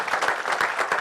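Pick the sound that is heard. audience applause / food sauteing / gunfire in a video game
audience applause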